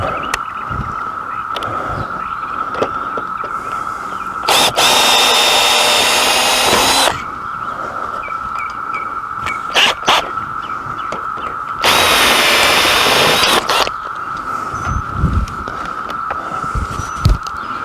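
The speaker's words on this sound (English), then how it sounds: "We're just gonna drill these 3 rivets out." Two long bursts of a power drill whining at high speed while drilling out rivets on a Dometic 9100 patio awning, each lasting a couple of seconds, with a steady hum and clatter in between.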